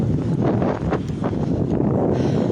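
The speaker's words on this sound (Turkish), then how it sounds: "Esiyor havamızda." Wind gusting across a microphone on the Üsküdar waterside, a steady broadband rush with low buffeting rumble throughout, loud and close, with a few brief swells and no talk.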